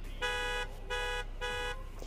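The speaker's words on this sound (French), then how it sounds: "la touche H, c'est le klaxon, tout simplement." Car horn in the driving game BeamNG.drive, honked three times in an even rhythm of short, bright, steady blasts with brief gaps, loud and clear over a low background hum.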